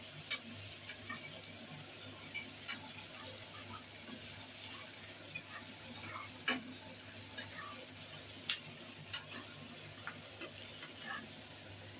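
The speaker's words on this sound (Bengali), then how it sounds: "একটু লালচে করে ভাজবো পেঁয়াজটা।" Onions with green chillies frying in hot oil until reddish for a Bengali mustard prawn dish, giving a steady soft sizzle with occasional faint clicks of stirring, quiet and continuous with no voices.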